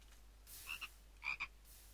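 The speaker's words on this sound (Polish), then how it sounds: "Żaba." A frog croaks in Minecraft with the Ultimate Mod Survival pack, a few short close croaks in two quick pairs over a steady low background hum.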